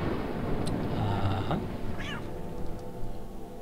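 A cat meowing in the Thief: Deadly Shadows video game gives a couple of clear, drawn-out meows over a low background hum, with no talking.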